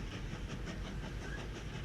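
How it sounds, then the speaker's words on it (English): A train runs on rails in the Mashinky video game, giving a soft, steady rumble with faint rhythmic clickety-clack and a light hiss, continuous and fairly quiet throughout. "We're going to have a look at the train coming back"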